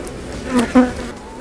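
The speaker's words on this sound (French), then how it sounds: "Il y a beaucoup d'abeilles" Honey bees at an open beehive buzz in two short, close passes, a brief rising drone over quiet background hum.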